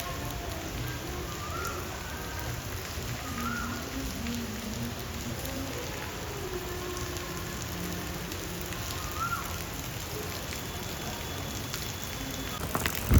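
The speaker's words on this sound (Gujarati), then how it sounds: "મસ્ત વરસાદ આવે છે." Steady monsoon rain falls in Surat, a continuous dense patter on surfaces that holds at an even level throughout, with a few louder drips near the end and no talk.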